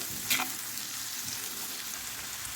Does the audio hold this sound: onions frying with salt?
yes